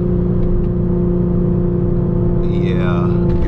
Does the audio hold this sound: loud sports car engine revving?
yes